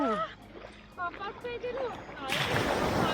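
Feet splash into cool sea water at a beach, a burst of sloshing that starts late and fills the end, after soft shore ambience and a speaking voice with chirpy bird calls earlier.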